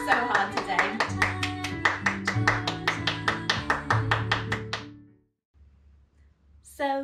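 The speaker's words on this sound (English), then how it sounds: "give yourselves a big clap for working so hard today" Small children clap their hands after a lockdown teddy-bear ballet dance class, a quick run of about twenty sharp, close claps in a steady rhythm over background music. The claps stop abruptly, leaving near silence before a brief voice.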